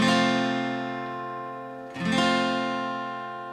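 Guitar chord from a basic lesson, a bright ringing strum that slowly decays, then a second strum at about two seconds that rings on, close and clear with no talking.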